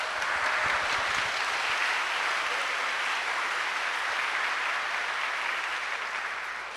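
A church congregation applauds during a sermon, a broad, continuous roar of many hands clapping held at an even level and fading slightly at the close.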